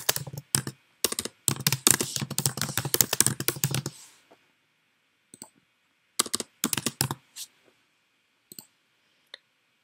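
Quick bursts of typing on a computer keyboard, a dense run of rapid key clicks followed by a pause and then scattered short clusters of keystrokes and single taps, close and alone without talk.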